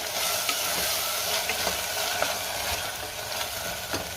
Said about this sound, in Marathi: पुदिन्याची पानं घालायची, थोडी कोथिंबीर घालायची आहे आणि पुन्हा सगळं व्यवस्थित मिक्स करून घ्यायचंय